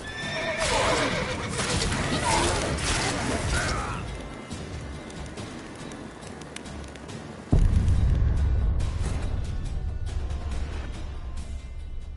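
Roach, Geralt's horse in the Witcher 3 video game, neighs loudly several times over a steady galloping clip-clop of hooves, with a heavier thud near the middle, after which the hoofbeats continue close and constant.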